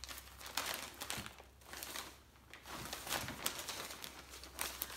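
A plastic shipping mailer holding t-shirts is torn open along its tearaway strip, giving close, crinkly ripping and rustling bursts in quick sequence with no talking.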